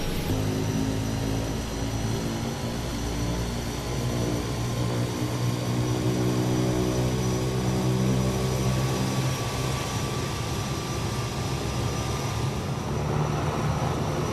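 A simulated Kodiak turboprop idles in Microsoft Flight Simulator, a steady loud droning hum with a low propeller throb and a thin high whine, continuous and unchanging throughout.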